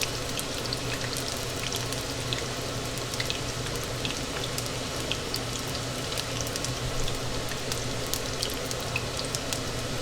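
Chive blossoms crisping in hot oil in a pan, with a dense, even crackle of tiny pops that holds steady throughout and no talking.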